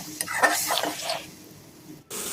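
Ground spices with turmeric and chili powder being stir-fried in a pan for a sea-fish curry, heard as a brief burst of scraping stirs and sizzle that fades, then a short cut before the sizzling resumes.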